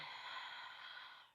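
Slow, deep breath during a guided meditation in the woods, a single long airy exhale that holds steady for over a second before trailing off softly.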